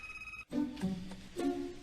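A home telephone rings briefly indoors, then stops and gives way to voices talking in the room, while an answering machine is left to take the call.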